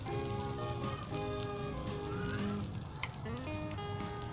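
Ketchup egg omelette sizzling steadily in a pan over low heat, a continuous soft frying hiss with faint tonal hum running underneath throughout.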